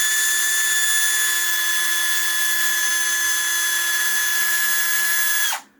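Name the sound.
power drill drilling plastic on arcade stick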